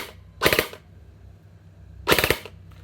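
Bing Feng MK18 gel blaster toy gun firing two quick bursts of rapid shots, each a sharp rattling volley lasting about a third of a second, separated by a quiet pause.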